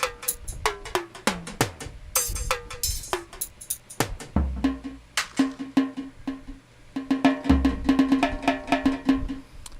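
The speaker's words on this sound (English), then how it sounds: "That sound is what they mostly use for the jab style." A metallic, bright drum hit used for the soca jab style plays in a layered soca groove with cowbell, bass and guitars, repeating in quick rhythmic strikes loud and close.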